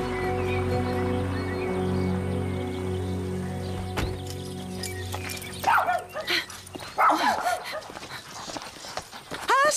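Several dogs barking and yipping in short, irregular bursts in the second half of the clip, fairly close, after a stretch of steady low background hum.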